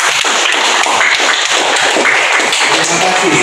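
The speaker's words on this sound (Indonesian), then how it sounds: "Beri tepuk tangan untuk kawan kita tersebut." A classroom of schoolchildren claps together in dense, steady applause that fills the whole moment, loud and close, with no talking over it.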